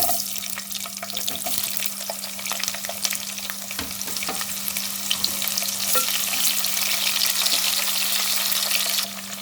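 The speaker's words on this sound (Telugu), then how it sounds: "పోపు వేగిన తర్వాత అందులో మన ఉల్లిగడ్డలు వేసుకుందాం." Chopped onions sizzling in hot tempering oil for sambar, a bright continuous crackle with occasional stirring scrapes, fairly loud and close, and no talking.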